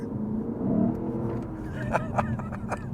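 A Lexus GS F engine, heard from inside the car, swells in a rising, revving note, then settles into a steady drone, with someone talking over the later part.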